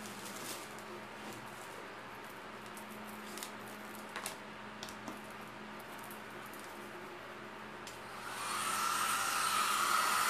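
A small toy Barbie hair dryer switches on near the end, blowing a steady whirring hiss over a mother-of-pearl effect craft piece after a stretch of quiet handling clicks.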